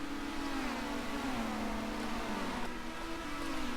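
Touring car engines in the rFactor racing game at Brands Hatch Indy, a steady droning engine note that sweeps down in pitch and then climbs again, sustained and fairly faint, with no talking.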